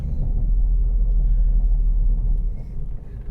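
A Ford Mondeo ST220 with an intermittent fault code pulls away on a short drive, its engine and road noise forming a deep steady rumble from inside the car that eases slightly near the end.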